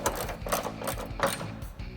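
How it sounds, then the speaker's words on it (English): A 3/8-inch ratchet turning a 16mm socket to tighten running-board bolts on a 2021-2023 Ford Bronco, rapid metallic clicking in steady bursts, close and clear. "I'm going to take my 16mm socket again on my 3/8 ratchet. I'm going to tighten these up."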